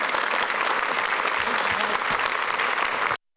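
A conference audience at a lightning-talks session claps in a dense, sustained round of applause, loud and even throughout, then cutting off abruptly.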